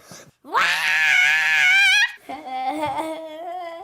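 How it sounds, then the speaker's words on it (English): A person lets out a long, loud, rising scream that breaks off, followed by a shorter, quieter wailing cry. "Sometimes you just gotta scream."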